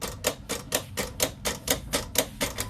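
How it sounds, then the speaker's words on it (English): A vinyl cutting machine works through a birthday shirt design, giving off a quick, even series of sharp mechanical clicks and chatters, about four per second, close and fairly quiet. "sending the design to the machine to be cut"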